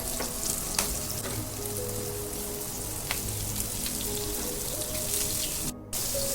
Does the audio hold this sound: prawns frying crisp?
yes